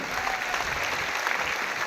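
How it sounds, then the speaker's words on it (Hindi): Crowd at a political party rally claps vigorously to welcome party workers, a dense, continuous roar of applause that stays loud and steady. "एक बार जोरदार ताली बजा के कार्यकर्ताओं का स्वागत है, जोरदार ताली बजा के स्वागत करिए"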